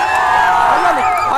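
A classroom crowd of students after a Bihar Board matriculation English exam, a loud continuous babble of many overlapping voices with shouts and cheers, close and filling the room throughout.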